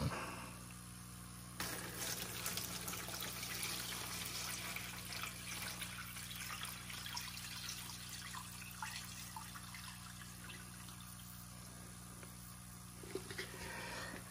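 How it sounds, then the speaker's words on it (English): Water pours steadily into a container, a continuous close splashing gurgle that runs for several seconds without talking. "And so now we'll just add water."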